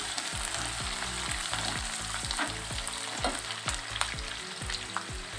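Onions and cashews fry in a pan for a paneer gravy, a dense, constant crackling sizzle up close, with repeated rhythmic scraping stirs throughout and no speech.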